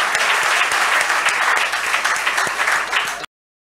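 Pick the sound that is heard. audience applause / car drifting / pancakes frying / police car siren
audience applause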